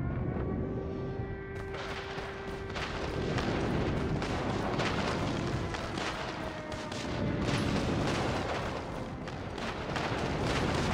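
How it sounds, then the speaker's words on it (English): Airstrike explosions in a Call of Duty match rumble as dense, continuous booming and crackling blasts, loud and rolling over several seconds, with a faint tone of game audio underneath. "Friendly airstrike incoming."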